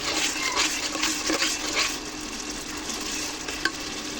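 A rohu fish head being stirred in a hot pan with salt, turmeric and chili powder, making continuous sizzling and scraping under a steady frying hiss, with a sharp clink near the end and no speech.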